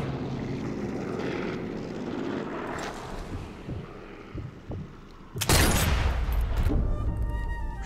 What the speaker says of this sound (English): Ah, planes fly by!